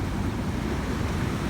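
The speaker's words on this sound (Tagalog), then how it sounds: "Kasi ang lalaki ng alon yan" Big ocean waves pound the shore just after a typhoon, a steady roar of surf mixed with wind buffeting the microphone, loud and continuous with no voices.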